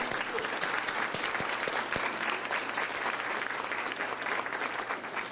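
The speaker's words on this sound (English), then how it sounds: "So, another round of applause for your support." An audience at a Bay Path University funding announcement with Congressman Richard Neal gives a round of applause, a continuous dense clatter of many hands clapping, moderately distant and steady throughout.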